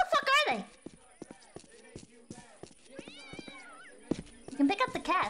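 A cat meows in a video game, rising and falling cries at the start and end with a softer mew in the middle, over sharp clopping footsteps and a faint constant electronic hum, with no talk.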